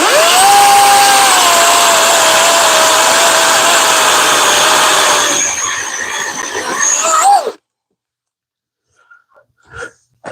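A 60 volt battery chainsaw rips through a log with a loud, steady high whine that sags slightly under load, then dies abruptly, followed by a few faint clicks and knocks.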